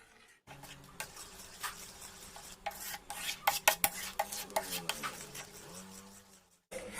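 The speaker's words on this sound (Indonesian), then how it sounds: "Kita aduk-aduk terus supaya tepungnya tidak mengendap di dasar wajan ya." A spoon steadily stirs banana pudding with palm sugar in a pan, scraping and clinking against the metal in quick, irregular strokes, close and fairly quiet, with no talk.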